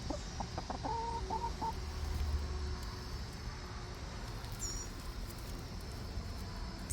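Backyard chickens cluck in a short series of clucks close by early on, followed by quieter occasional bird calls over a steady outdoor background hum.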